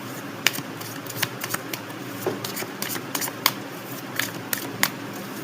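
Tarot cards are shuffled in a run of quick, crisp riffling bursts and flicks during a reading, close and fairly soft, with no speech.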